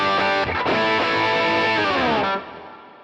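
A heavily distorted electric guitar chord from a Neural DSP Quad Cortex distortion stomp rings out loud and sustained, with a brief re-strum, then cuts off into a fading tail.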